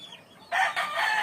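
After a brief faint call, a gamecock's crow bursts in loud and close, holding a strained, raspy note to the end.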